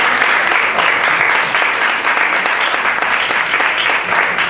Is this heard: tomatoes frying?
no